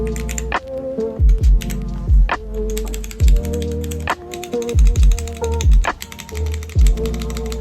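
Stock GamaKay K87 mechanical keyboard with a bright, clacky sound profile being typed on. Close, crisp key clicks come in uneven bursts, with a few louder, deeper thocks and rattles from the larger keys such as the spacebar and shift keys.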